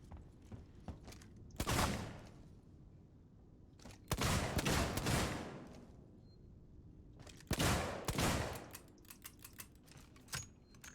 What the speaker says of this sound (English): so let's just pop a few shots